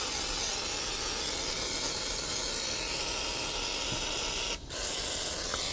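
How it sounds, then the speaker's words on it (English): Water from a hose sprays over a 1974 Honda CB550 motorcycle, a steady close hiss that breaks off once briefly before resuming. "I'm just going to go ahead and give it a good hosing down everywhere."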